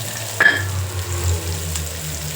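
Oil sizzles steadily in a pan, with a brief metallic clink early on and a low hum underneath.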